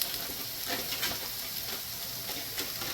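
Onion and bell pepper caramelizing in a pan for sautéed potatoes give off a steady, close sizzle with soft irregular crackles throughout.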